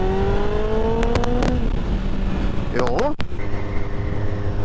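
Kawasaki ZXR motorcycle engine revving up and dropping back in repeated sweeps, loud and close, with a brief spoken word mixed in.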